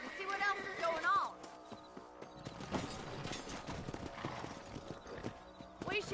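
Horse hooves clip-clop in the video game Red Dead Redemption, an irregular stream of hoofbeats at moderate volume, with a brief whinny near the start and soft ambient sound around it.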